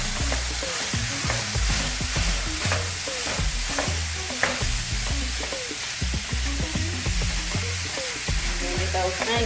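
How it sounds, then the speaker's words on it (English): Ground meat with onions sizzles in a hot pan for loaded nachos while a utensil mashes and stirs it, with repeated scraping and stirring strokes over a steady close frying hiss. "I'm gonna get this meat mashed up really good here"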